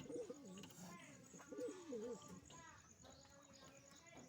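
Pigeons being fed, giving soft repeated throaty coos close by, with several birds overlapping amid light rustling and faint background chatter.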